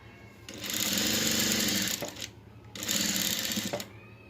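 A sewing machine stitching fabric, running in two loud, steady bursts with a short pause between them, close by and with no talk.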